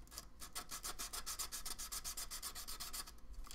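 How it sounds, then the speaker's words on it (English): Sandpaper rubbed back and forth in a steady, even rhythm of short strokes, close and continuous, with a low hum underneath and no voices. "Let's see how this sandpaper does."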